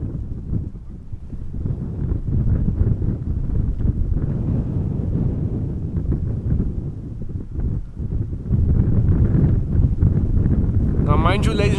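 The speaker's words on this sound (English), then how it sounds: "the wind is not slowing down by any means" Strong wind at Amsterdam Schiphol Airport roars into the microphone as a loud, continuous low buffeting that rises and dips in gusts throughout.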